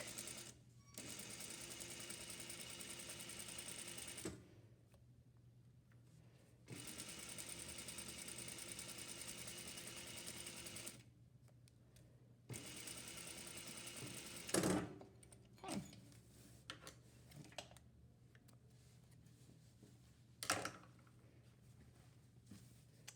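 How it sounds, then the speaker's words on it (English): A sewing machine stitches a seam on pajama pants in three sustained runs of fast, even mechanical whirring, separated by quiet pauses, followed by scattered clicks and fabric handling. "I like to sew in the middle of my seam allowance"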